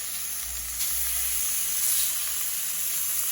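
Deer heart with peppers and onions sizzles steadily in a hot pan after being turned over, a bright continuous hiss with faint crackles and a low background hum.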